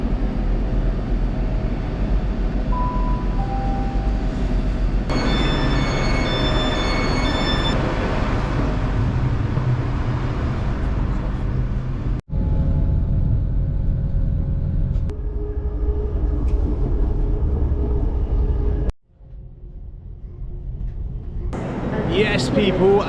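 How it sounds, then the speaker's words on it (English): A long train journey to London heard from inside the carriage, with a steady loud rumble and hum of the moving train, brief drops in sound partway through, and a few tonal chimes near the start. "We are taking a 3-hour train up to London."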